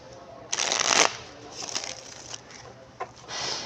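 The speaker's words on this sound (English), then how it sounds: "One more shuffle." Tarot cards riffled and shuffled by hand in a few quick papery bursts, the longest near the start, then shorter flurries and a final run of shuffling, close and moderately loud with no talking.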